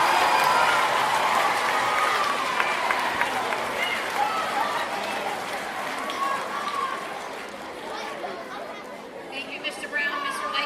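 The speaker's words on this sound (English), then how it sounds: "Let's give the marching band a round of applause." A school assembly audience applauds the marching band with a dense wash of clapping, mixed with crowd chatter and shuffling, strong at first and gradually thinning out over about ten seconds.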